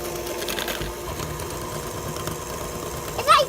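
An electric mixer whirs loudly and bumpily through chocolate chip cookie dough at high speed, a steady close motor drone with a rattling texture.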